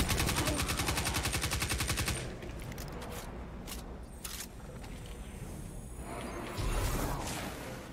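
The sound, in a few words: gunfire in a video game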